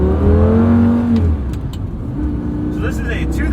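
A 2007 Lamborghini Gallardo Coupe in orange with a gated 6-speed has its engine revving loudly. A steady droning note rises and then settles, and a voice talks over it.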